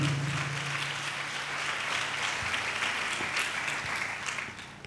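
A church congregation claps loudly together in praise during a sermon, a continuous wash of many hands filling a large hall, fairly distant, with a low hum underneath and fading toward the end.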